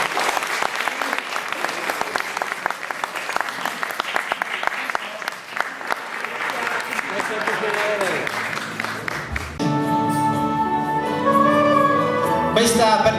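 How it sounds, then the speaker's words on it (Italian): Audience applause at an official civic ceremony in Gravina di Catania, a sustained dense clapping that runs for many seconds, then gives way to music near the end. "Bello l'applauso."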